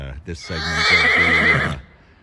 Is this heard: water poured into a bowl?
no